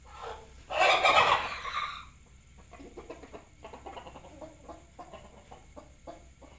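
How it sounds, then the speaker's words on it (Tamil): A rooster and hens in a farmyard: one loud, close squawking call at the start, followed by a run of softer repeated clucks, with no talking. "இங்கே சேவல் கோழியாக இருக்கும்."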